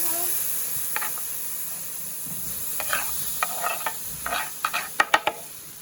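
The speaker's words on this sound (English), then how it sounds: "I'm going to be taking my shrimp and placing it into my wok" Shrimp in a hot wok, a faint steady sizzle beneath a series of short clattering stirs that grow louder and more frequent toward the end.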